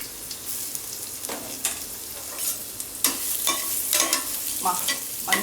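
Ginger-garlic pieces with stone flower and spices frying in a pan for coconut milk pulao, a steady sizzle broken by several sharp scraping stirs of a spoon.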